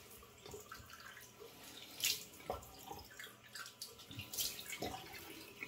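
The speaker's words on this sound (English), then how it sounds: "splash on water twice, cold water out of the sink on my face" Cold tap water splashed from a sink onto a face twice during pre-shave prep, giving two bursts of wet splashing around the two- and four-second marks over a running faucet and soft dripping.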